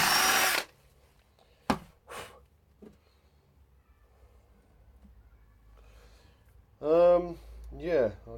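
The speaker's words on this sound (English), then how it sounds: "I guess that drill bit was bigger than the other one then" A short burst of a drill boring into wood for a bass guitar build at the start, followed by near silence with a few knocks, then a person speaks briefly near the end.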